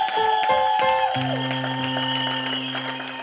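A church congregation claps and cheers in short bursts at first, then sustained organ or keyboard chords ring out and carry on under softer, fading applause.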